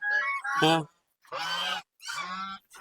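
Several honking duck calls on a farm, three loud bursts separated by short silences, heard close up.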